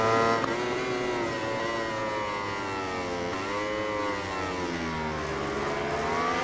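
Racing motorcycle engine in the MotoGP 20 video game on Xbox One X, a loud sustained high-pitched whine with rising and falling revs through gear changes, continuous with no talk.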